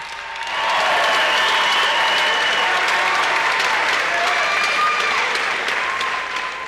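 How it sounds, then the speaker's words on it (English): Crowd applause after a Muay Thai bout ends in the third round, a dense, steady roar of clapping that swells quickly and holds loud for several seconds. "how about a nice round of applause for both fighters"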